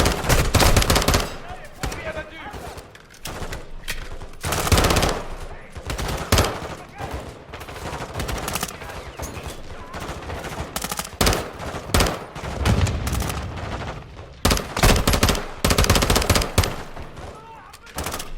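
Dense bursts of gunfire and rapid machine-gun fire from the video game Modern Warfare 2, loud and nearly continuous with repeated volleys and short gaps, with faint voices now and then.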